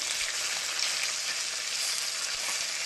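Fish fry in a pan with a steady, bright hiss of sizzling oil that holds evenly throughout, close and alone without any voices.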